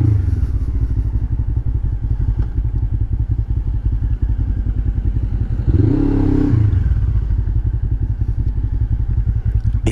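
A motorcycle ridden in January winter conditions in Lorraine, its engine thrumming loudly and steadily up close, with a brief swell in the middle, no talk.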